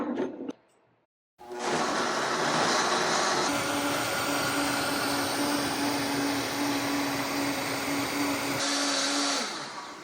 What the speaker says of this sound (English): I'll add a little bit more water and blend.